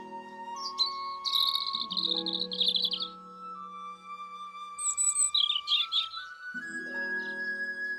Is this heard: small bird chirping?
yes